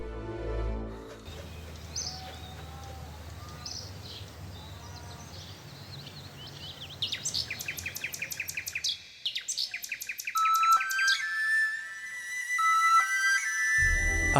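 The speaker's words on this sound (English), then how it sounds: "Only the song of the nightingale that he loved could save him." Bird song with varied chirps and trills over a soft background, followed by rapid repeated tweeting bursts and sustained whistled notes rising in loudness toward the end.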